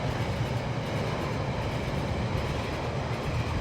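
A model train in the game Rolling Line runs steadily along the track, giving a continuous rumbling roll with faint rhythmic clatter, even in level and without speech.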